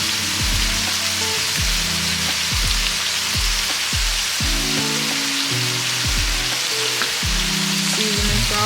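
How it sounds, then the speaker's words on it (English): Meatballs frying in a pan for spaghetti meat sauce, a loud, dense, continuous sizzle heard close up and steady throughout, with faint lower rumbling beneath it and no voices. "We're going to add these meatballs, though."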